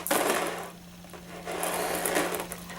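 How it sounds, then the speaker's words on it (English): Light beads rattled and shaken by a baby, a close, busy clatter that swells and eases in bursts, with no talk. "I just really like the beads. They make noise."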